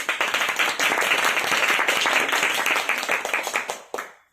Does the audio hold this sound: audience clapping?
yes